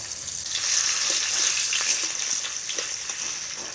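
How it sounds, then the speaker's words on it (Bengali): Chopped onion frying in oil in a pan with five-spice seeds and a bay leaf, a steady close sizzle with soft crackles and occasional stirring scrapes, no talk. "পেঁয়াজটা হালকা ভাজা হয়ে গেছে"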